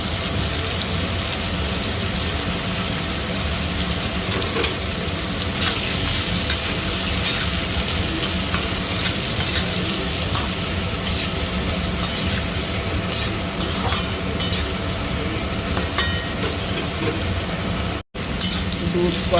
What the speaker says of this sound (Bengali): দুধ করলা ভালো করে ভাজা হয়ে গেছে